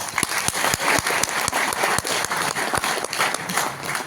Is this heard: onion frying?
no